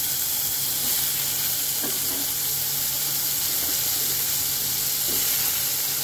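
Spice tempering sizzles steadily in hot oil before cut taro goes in, part of a taro and tengra fish curry; a broad, constant frying hiss fills the whole stretch, with a few faint utensil clinks and no talk.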